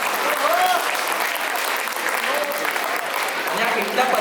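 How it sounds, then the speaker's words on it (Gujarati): Audience applause in a hall at a Diwali cultural event, a sustained dense clapping from a large crowd that holds steady throughout, with a few faint voices and whistles mixed in. "એમના માટે જોરદાર તાળીઓ થઈ જાય."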